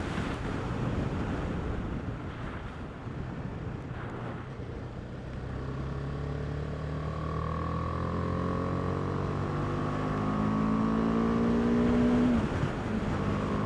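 A 2018 BMW G310R motorcycle engine on a test ride rises and falls through the gears, its whine sweeping upward under heavy rushing wind noise, steady and close.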